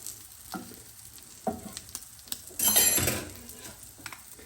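Korean rolled omelette egg frying in a pan, scattered soft scrapes and taps of a utensil, then a brief louder burst of sizzle and sliding as the egg is pulled back across the pan.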